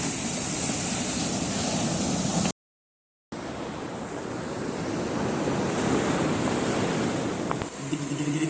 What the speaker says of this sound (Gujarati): અચાનકમાં મોજા મારે, અવાજ એવો મસ્ત સંભળાય